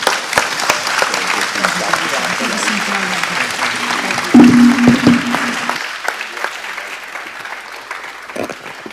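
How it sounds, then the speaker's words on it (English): Steady applause fills the space from a clapping crowd, with a voice speaking over it midway before the clapping thins and fades. "Let's give these guys a clap."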